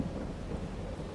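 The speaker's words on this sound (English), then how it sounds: "oh, it's raining. The thunder." Thunder rumbles low and steady during rain, a faint continuous roll with the hiss of rainfall beneath it, heard alone without voices.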